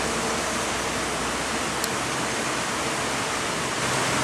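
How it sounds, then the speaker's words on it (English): A river in the Salzach Valley near Pfarrwerfen rushes steadily as a loud, broadband wash of flowing water, continuous and close, with no voices. "Look at that gorgeous, gorgeous river."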